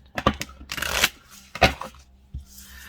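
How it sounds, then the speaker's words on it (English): Quick papery riffles and flutters of a new oracle card deck being shuffled, several short bursts close by, no voices. "I'm just going to shuffle"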